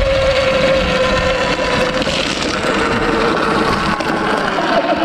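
A continuous whining electric motor of a Sur-Ron electric dirt bike strains climbing a steep hill, steady and close, with a high tonal hum and rough mechanical rattle.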